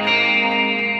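Fender Jazzmaster electric guitar run through chorus, reverb and delay, a sustained shimmering chord ringing loud and steady for about a second with a wide, washy tail.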